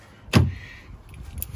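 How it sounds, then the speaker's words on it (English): A Hyundai Ioniq 5 door being unlocked and opened by hand with a key, giving a single sharp click and thud followed by faint rustling and a soft second click. "and the door opens."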